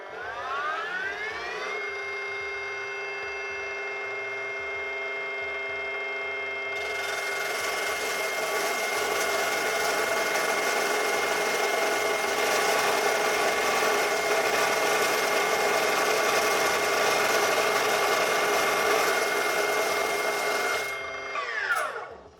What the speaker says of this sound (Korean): 이어서 38mm 환봉도 같이 잘라봤는데 크게 다를 건 없었습니다